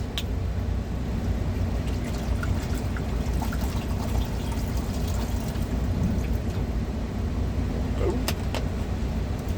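Water poured from a bottle into a pot for cooking rice inside a truck cab, a steady gurgling pour over a constant low engine idle rumble, with a few faint clinks near the end.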